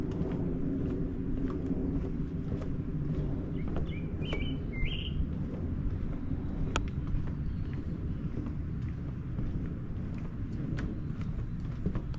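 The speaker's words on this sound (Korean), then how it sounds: "새소리도 좋네" Birds chirp and tweet in a mountain forest recreation area, with short, scattered calls rising over a steady low outdoor rumble and light wind noise; no voices are present.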